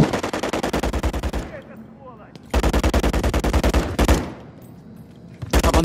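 Sustained bursts of rapid automatic gunfire in Modern Warfare 3, loud and close, broken by short lulls with fainter gameplay effects before the firing resumes.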